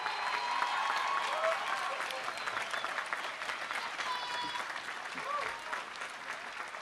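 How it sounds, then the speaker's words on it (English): A commencement crowd at Fitchburg State University breaks into a broad, sustained round of applause for honored students. The clapping is dense and even, slowly easing toward the end. "Let's give them a round of applause."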